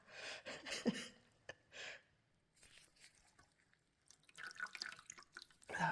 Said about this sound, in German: Und hier ein bisschen abtropfen.